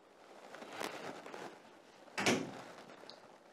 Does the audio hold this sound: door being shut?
yes